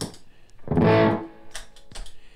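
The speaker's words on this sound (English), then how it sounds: "if I want some distortion on it" A short burst of distorted electric guitar, a single gritty chord swelling and fading, followed by a couple of faint picked notes.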